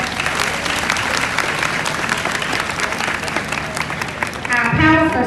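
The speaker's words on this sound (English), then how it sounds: "Can we give them a round of applause, please?" An audience at an elementary school 5th grade graduation claps for the principal and staff, giving dense, steady applause that carries on for several seconds, with a voice rising over it near the end.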